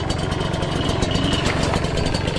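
A 2021 Kayo KT 250 two-stroke dirt bike engine revving close by, a loud, steady, buzzing drone with no talking.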